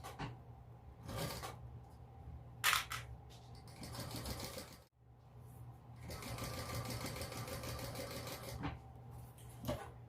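A sewing machine bastes around a bag lining in quick rattling bursts of stitching, separated by short pauses and soft handling noises, close and fairly quiet.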